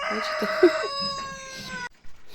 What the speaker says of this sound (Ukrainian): Вон сидить голошийка, червона курка, ну такі бандітки дві.